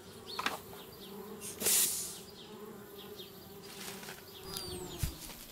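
Bees buzz around a beehive in the video game Anna's Quest, a steady insect drone with a louder swell near the middle and quieter passes either side.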